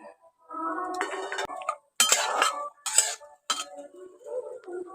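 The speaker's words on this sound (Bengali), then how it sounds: "জলটা দিয়ে সোয়াবিনগুলো ওর মধ্যে দিয়ে দিচ্ছি।" Soybean chunks dropped into water in a wok, heard as a few distinct bursts of metallic clinks, clatters and splashy scrapes separated by brief pauses, close and fairly loud with no voices.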